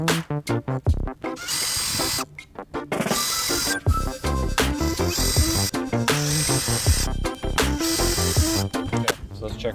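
A power drill drives fasteners while a rail system is installed on a tandem kayak, giving loud, close bursts of whirring and ratcheting that stop and restart in short runs.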